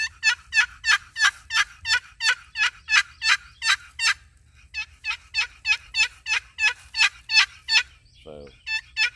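A box call imitates a wild turkey hen's long call, sounding as fast runs of high, sharp yelps in two series with a brief pause between them, close and clear, with no talking.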